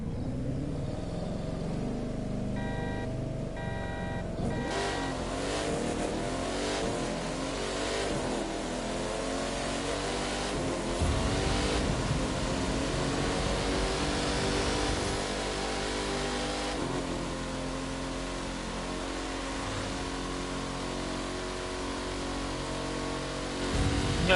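Shelby car engine in the racing video game Inner Drive, a continuous loud rev climbing through the gears with repeated pitch rises and shifts, held close and steady throughout.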